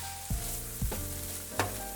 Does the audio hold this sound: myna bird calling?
no